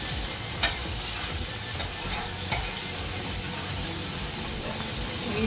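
Ackee simmering in coconut oil in a pan, a soft constant sizzle with a few sharp clinks of a utensil against the pot.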